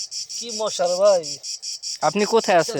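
Crickets chirping in a mosquito-filled forest, a loud close pulsing trill repeating steadily throughout while someone speaks over it.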